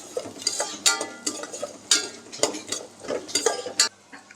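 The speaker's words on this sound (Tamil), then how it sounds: "இந்த தேங்காயெல்லாம் வந்துட்டு நல்லா பொன்னிறமாக வறுபட்டு வர அளவுக்கு அடுப்பை மீடியம் ஃப்ளேமில் வச்சுட்டு நல்லா வறுத்துக்கலாம்" Chopped coconut roasts in hot oil over a medium flame, with a utensil repeatedly scraping and stirring the pan and light sizzling between the sharp clinks.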